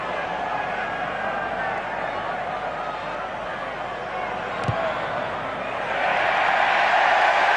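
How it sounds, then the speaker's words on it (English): A stadium crowd roaring at the 2003 Rugby World Cup quarter-final between England and Wales in Brisbane, a broad sustained rumble that swells louder near the end, under a commentator's voice. "The crowd response in confirmation."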